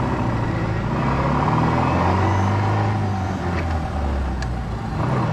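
A vintage Austin 7 Pearl car's engine drones steadily while driving, a low, continuous rumble with road noise, fairly loud and close, no talking.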